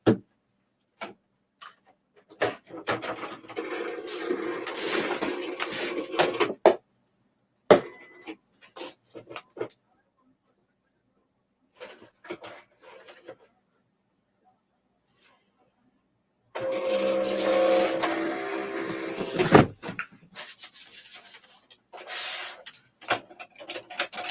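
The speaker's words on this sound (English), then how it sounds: "You will get to see me actually cutting on the machine." Electronic cutting machine slicing paper for bows, two stretches of whirring, clicking carriage movement close by, separated by quiet gaps with scattered taps and handling clicks.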